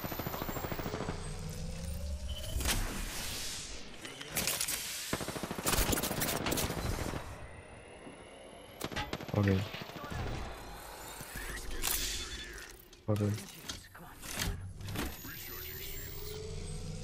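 Bursts of automatic gunfire in Apex Legends, dense rattling volleys followed by sparser single shots and mechanical clicks, loud and close, with a voice talking in places.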